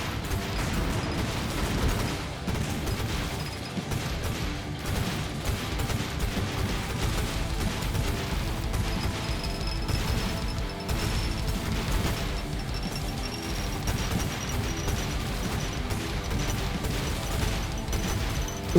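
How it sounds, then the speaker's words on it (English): Rocket explosions in a cyber horde survivor roguelike video game, a relentless barrage of overlapping blasts and crashing impacts with mechanical whirring, loud and continuous without pause. "So many explosions."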